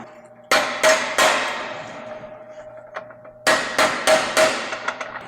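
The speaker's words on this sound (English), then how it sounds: "I'm going to attempt to use the air hammer again" Loud metallic hammering from a pneumatic air hammer striking metal, in two short bursts of several sharp, ringing blows each, close by, with a pause between.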